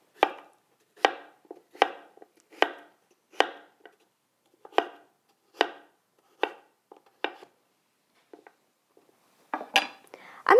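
A knife chops vegetables such as carrots into angled chips on a cutting board, about a dozen crisp separate strikes in an uneven rhythm, close and clear, with a quick cluster near the end.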